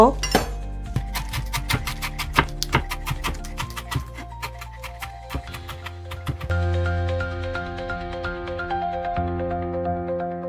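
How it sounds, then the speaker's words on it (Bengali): Garden coriander leaves chopped with a knife on a board, a quick run of sharp rhythmic taps and clinks close by, then a steadier ringing tone with a few lighter knocks. "আমার বাগানের বিলেতে ধনে পাতা কুচিয়ে নেব"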